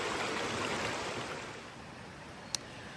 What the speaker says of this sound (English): there's a beautiful little waterfall right here. It's kind of like a cascading waterfall